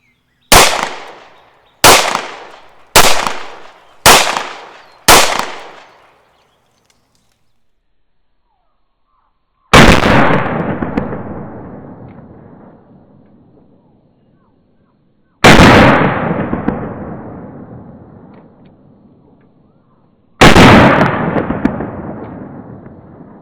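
Browning Hi Power Mark III pistol shots on an outdoor range: five loud rapid shots in quick succession, a pause, then three single shots spaced several seconds apart, each with a sharp crack and a ringing decay.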